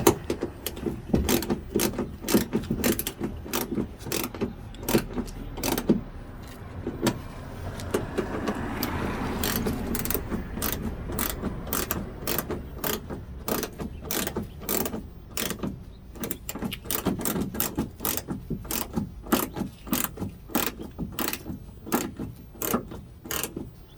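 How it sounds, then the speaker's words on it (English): Screws being tightened all the way around fender flares on a 2016-2021 Toyota Tacoma, a steady run of rapid ratcheting clicks close by, with short pauses between screws and no talking. "so now you tight up all your screws, okay, all the way around"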